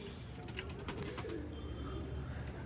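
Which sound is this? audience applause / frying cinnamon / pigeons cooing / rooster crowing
pigeons cooing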